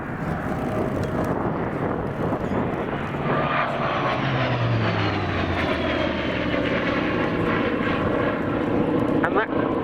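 A Hawker Sea Fury T20 two-seat trainer, powered by a 2,500 horsepower Bristol Centaurus radial engine, drones loudly and smoothly overhead at an air show. Its pitch slides gradually as the aircraft passes.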